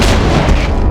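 A single heavy gunshot fired in the survival horror game Silent Hill 2, a loud booming blast filling the short moment with dense low-end rumble and no talk.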